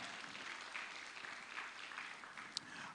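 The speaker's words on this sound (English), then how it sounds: "Please, can you clap a little louder for her?" Steady applause from a conference audience welcoming a woman to the stage in Lagos, dense and even throughout with one sharp click near the end.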